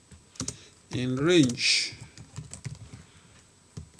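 Rapid keystrokes on a computer keyboard while Python code for a simple calculator app is entered, soft clicks scattered under a speaking voice.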